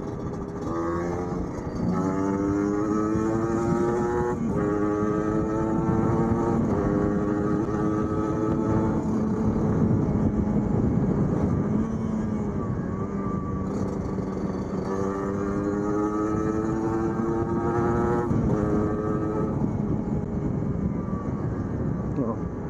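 A Kawasaki Ninja RR motorcycle fitted with an Aitech Racing exhaust revs steadily up and down through the midrange, its engine note rising and falling close by with a voice talking over it.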